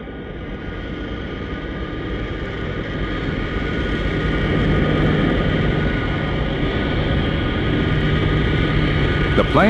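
A plane on final approach to the runway for landing, giving a steady, even engine roar with a faint whine that grows slightly louder and continues without a break.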